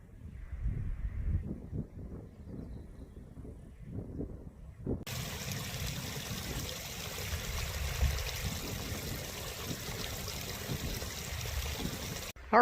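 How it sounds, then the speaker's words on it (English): Water from a small mountain stream trickles and gurgles into plastic Coke bottles, the soft pouring and bubbling close up, then giving way to a broader steady rush of flowing water. "I just filled up my empty Coke bottles with some water from that little stream"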